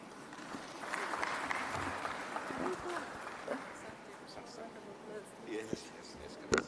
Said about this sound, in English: Madam Nancy, a round of applause for Nancy.